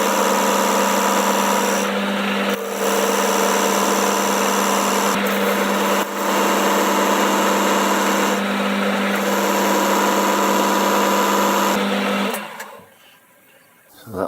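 A metal lathe turns down the outside diameter of a teapot part to about three inches, a loud, steady mechanical whir with a constant tone and brief dips, winding down near the end.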